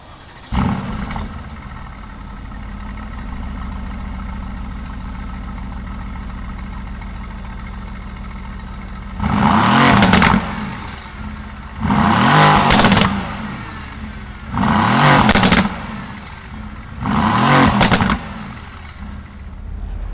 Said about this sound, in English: let's fire up this AMG GT and see what it sounds like